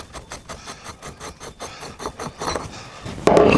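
Rhythmic rasping turns from a wrench undoing the front sprocket nut on a Triumph T140 Desert Sled motorcycle, a close series of ratcheting strokes that grow louder before a sharp final clunk.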